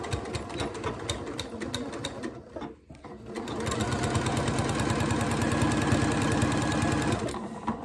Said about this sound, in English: I actually back stitch with a walking foot with no problem